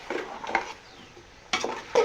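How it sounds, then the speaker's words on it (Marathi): Vegetable curry being stir-fried in a pan gives a few brief, close scrapes of a spatula over a faint sizzle, then a short pause before more stirring strokes, with no talking. "परत आपल्याला छान परतून घ्यायचं"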